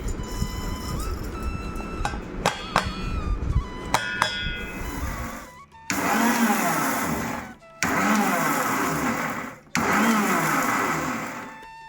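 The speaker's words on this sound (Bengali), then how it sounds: "একটা গুঁড়ো করব গুঁড়ো করার সময় এটা একদম মিহি পেস্ট করব না আধা গুঁড়ো করব" A kitchen mixer grinder coarsely grinding dry mango pickle spices runs in three loud whirring bursts separated by brief pauses, after a stretch of clinking and handling noises.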